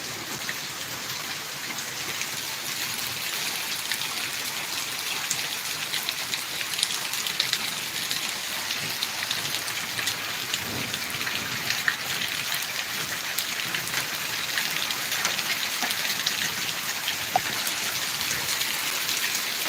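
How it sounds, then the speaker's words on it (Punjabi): Heavy rain pours steadily and loudly over a farm area with wheat fields during a hailstorm, a dense, unbroken hiss from start to finish with no voices. "ਮੀਂਹ ਬਹੁਤ ਤੇਜ਼ ਹੈ"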